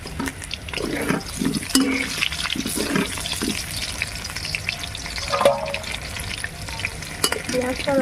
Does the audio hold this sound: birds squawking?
no